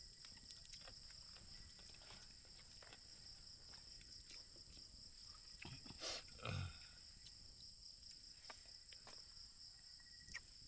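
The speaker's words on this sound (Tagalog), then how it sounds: "Nahuni na kuliglig." Crickets chirp steadily at a night campsite in nature, a faint continuous high trill with scattered clicks and rustles nearby.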